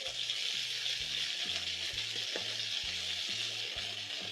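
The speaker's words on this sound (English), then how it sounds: "I'm going to flip my beef so that you can sear on the other side." Seasoned beef searing in a hot pan after being flipped for a beef stroganoff, a continuous soft sizzle with low hum beneath and occasional light clicks, fairly quiet and with no voices.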